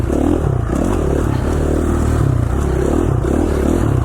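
A dirt bike rides single track over light snow in Rabbit Creek, Idaho, its engine droning steadily and close throughout, with clattering, scraping and revving undertones and no talking.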